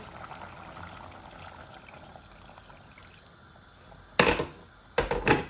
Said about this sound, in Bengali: এখন আমি জল দিলাইমু গরম পানি।